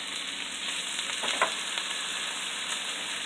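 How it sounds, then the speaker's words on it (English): Shrimp sizzling in a pan with sautéed broccoli and onions during a keto stir fry, a steady close hiss of frying with a brief louder crackle burst near the middle, no talking. "Now we're going to add our shrimp."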